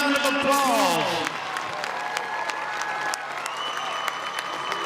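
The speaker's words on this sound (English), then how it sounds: "Let's give the Westridge Band a big round of applause." A crowd at a high school football game applauds a marching band, steady distant clapping with cheering under a public-address voice that speaks at the start.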